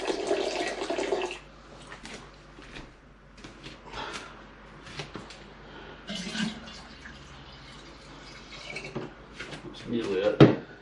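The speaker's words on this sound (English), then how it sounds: "I'm going to put that in a little water and dissolve it that way" Water splashes and trickles into a small container to dissolve brewing yeast for a Pinter homebrew kit. The pours come in several short bursts, close by, with a person talking between them.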